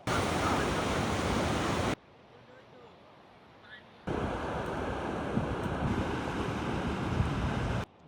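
Ocean surf on the beach at Cox's Bazar on a foggy morning, a loud continuous roar of breaking waves with wind buffeting, broken by a brief quieter gap in the middle.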